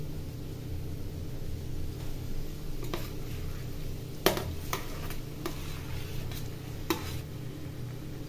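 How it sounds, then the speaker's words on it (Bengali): Roasted eggplant and grated coconut tipped into a pan of fried tomatoes, several soft scrapes and thumps spaced over a few seconds above a low, steady sizzle. "এখন বেগুন পোড়া আর নারকেল কোড়া দিয়ে দিচ্ছি"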